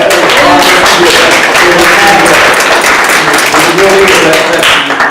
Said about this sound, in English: I think we ought to owe Union President Wes White a big round of applause for all this